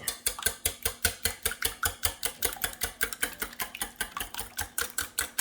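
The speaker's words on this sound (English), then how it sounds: "Okay, whisk them up." A whisk beats eggs with a little whipped cream in a bowl, giving fast, regular clinking strokes about four per second, close and clear, with no talking.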